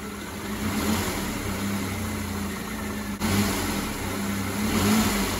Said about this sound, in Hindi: अब आप कार की एक बार साउंड सुनो।